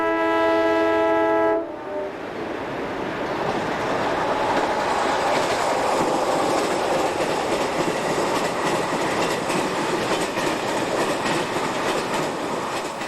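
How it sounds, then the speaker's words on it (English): Portuguese diesel locomotive 1806 hauling a morning interregional passenger train toward Barreiro, opening with a long multi-tone horn blast, then a loud, sustained roar of engine and coaches rushing past nearby. "1806 rushes through with the morning interregional bound for Barreiro"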